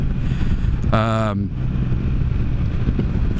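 A Can-Am Spyder engine idling as it warms up, a continuous low rumble close by, with a brief tonal whine breaking in once near the start.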